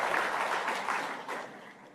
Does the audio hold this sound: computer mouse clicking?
no